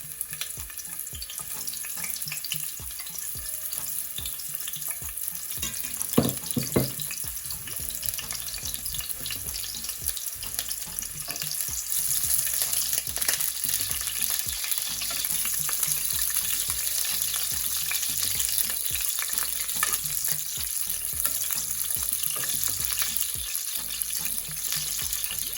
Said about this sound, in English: the next step in my process is I'm gonna add my onions to the pot